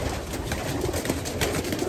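Racing pigeons coo softly in a breeding loft, a close, continuous murmur of low throaty calls with faint rustling behind it.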